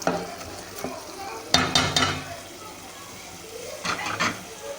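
Cauliflower being stir-fried in hot oil with potato in a Delhi-style aloo gobi, soft sizzling throughout with a few sharper scraping stirs, close and fairly quiet.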